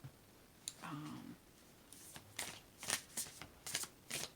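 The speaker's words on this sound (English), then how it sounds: "Okay, I'm gonna pull 2 more cards." Tarot cards being shuffled and then pulled from the deck: soft papery riffling early on, then a run of crisp, close slaps and flicks as cards are drawn, with no talking.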